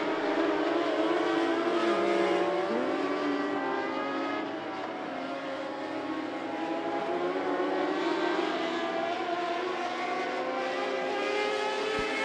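Modified race cars at I-75 Raceway howl around the track in a modlite feature race, a steady, loud engine drone with shifting pitch as the cars sweep down the back straightaway.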